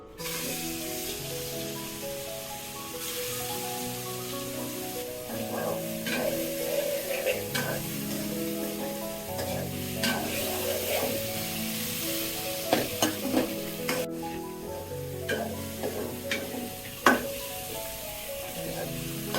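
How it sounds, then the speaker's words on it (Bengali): Meat sautéing in hot white oil in a pan, a steady close sizzle with repeated scraping and stirring clatter of a utensil against the pan, growing busier toward the end. "আমি এখন মাংসগুলো কষাই নিচ্ছি"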